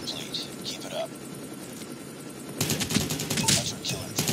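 In Call of Duty: Mobile, a friendly stealth helicopter flies in with a rising whirring rumble that gets louder about halfway through, mixed with bursts of gunfire and a game voice.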